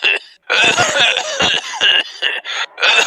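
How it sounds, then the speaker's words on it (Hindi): A child with a cold coughs loudly and repeatedly at close range, a series of harsh bursts broken by short pauses, with no talking. "तुम्हें तो बहुत खांसी हो रही है बेटा"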